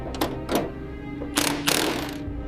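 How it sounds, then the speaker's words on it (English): Metallic clunks and ratcheting knocks come from loosening slightly corroded bolts on an old locomotive engine during a restoration, a few sharp close impacts spaced about a second apart. "The first step is loosening these slightly corroded bolts to reveal the internal framework underneath."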